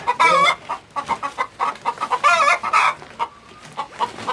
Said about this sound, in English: The chickens are just lined up out here waiting to get in